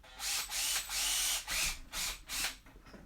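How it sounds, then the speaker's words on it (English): Power drill bores into a Losi 5ive-T RC car in a workshop, several short whirring bursts with brief pauses between them, fairly quiet and close, no voices. "Make sure I'm not drilling into anything important here."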